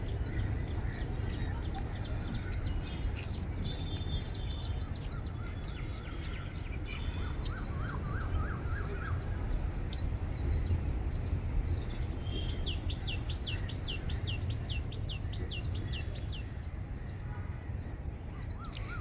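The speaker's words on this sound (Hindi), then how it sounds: "जो फ्लेमिंगो माइग्रेटरी बर्ड होते हैं, वो बाहर से आते हैं। आप उनकी आवाज़ सुनिए और उनकी एक्टिविटी को देखिए।" At a pond in Navi Mumbai, flamingos and small birds call over a steady wash of broad outdoor noise. Rapid, high chittering bursts repeat from some distance, with scattered chirps in between.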